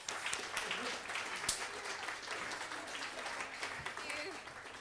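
An audience applauding to welcome a speaker to a talk on the death of the music critic, steady lecture-hall clapping throughout, moderate in level and unbroken.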